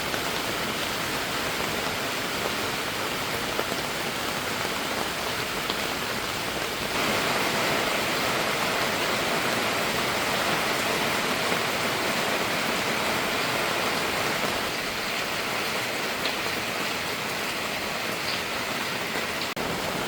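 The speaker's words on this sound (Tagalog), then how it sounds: "Thank you, Lord, sa malakas na ulan talaga." Heavy rain pours down in a loud, constant roar with no break throughout.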